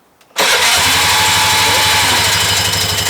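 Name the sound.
Piaggio ET4 scooter engine starting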